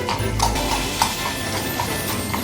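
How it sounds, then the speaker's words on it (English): Horse clip-clopping along a December street in Bruges, a clear, close series of hoof strikes on hard ground. "It's Rudolph the horse."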